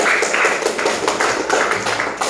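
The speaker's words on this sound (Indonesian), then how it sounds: "Tepuk tangan untuk semuanya." A classroom of students applauds together, a steady burst of clapping lasting a couple of seconds, fairly close and loud with no talking over it.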